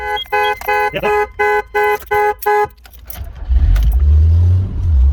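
An MG F sports car gives a series of short, evenly spaced tonal beeps, then its engine turns over and settles into a loud, deep rumble that swells near the end.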